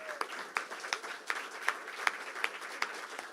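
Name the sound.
audience applause at poetry awards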